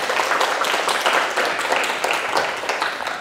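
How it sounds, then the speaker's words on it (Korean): Dense, sustained clapping from a crowd at a Sunday lecture and Q&A session, steady and fairly loud throughout with no breaks. "큰 박수 부탁합니다"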